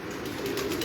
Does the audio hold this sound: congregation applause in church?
no